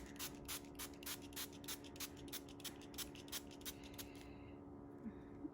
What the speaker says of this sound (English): Spray, spray, spray. I'm just gonna spray plenty.